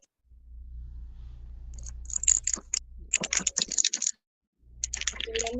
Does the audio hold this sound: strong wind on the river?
no